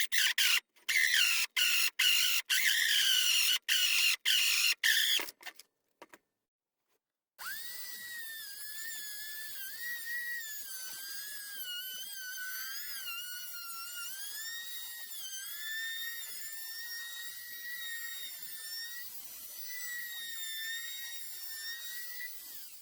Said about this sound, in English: I've gone as far as I can from this side with the hole saw, so now I'm going to flip it over and drill from the inside